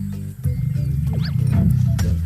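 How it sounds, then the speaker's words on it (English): A lion roars in a kids' early learning app, a loud, sustained low growling roar lasting a couple of seconds, heard alone without talk. "Lion."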